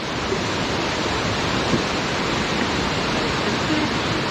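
A flowing mountain stream in Pahalgam, Kashmir, makes a loud, steady broadband rush of water close by, constant throughout and heard with no talking.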